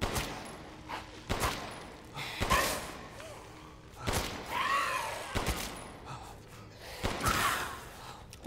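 Gunfire in the video game Resident Evil Village, with several sharp shots spread across the clip between stretches of game ambience and creature noises; no talking.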